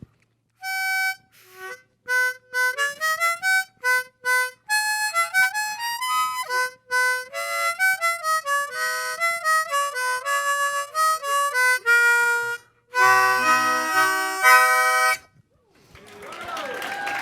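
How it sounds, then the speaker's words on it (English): A bright, plucked miniature harpsichord plays a quick, tinkly Minuet in G in steady notes, ending in a dense flourish before fading out. "I would bring a miniature harpsichord."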